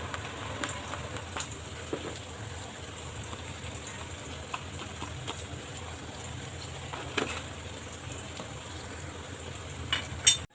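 Onion frying in a pan for an aloo matar dish, a soft, even crackle and sizzle like light rain, steady and fairly faint, with a few small clatters.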